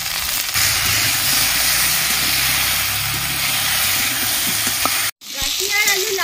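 Potatoes and gati kochu (taro) fry in hot oil in a wok with a steady, close broadband sizzle that runs unbroken. A short cut near the end is followed by a brighter crackle.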